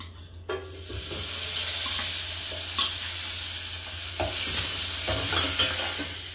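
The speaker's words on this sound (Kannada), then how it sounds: "ನಾನೀಗ ಬೆಣ್ಣೆ ಹಾಕೊಳ್ತಾ ಇದ್ದೀನಿ." Butter sizzles in a pan for palak paneer, a steady close frying hiss with a few clinks and stirring knocks and no talk.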